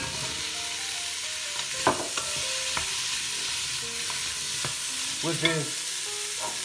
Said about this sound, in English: When the onions have been baking for around 5 minutes and they start to turn a little brown, you can add the cucumber.